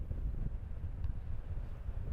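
Wind sweeps across an outdoor disc golf course at the Västervik Open, a steady low buffeting rumble against the microphone that lasts the whole brief moment, with no voices.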